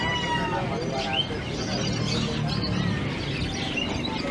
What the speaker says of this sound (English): think it's just birds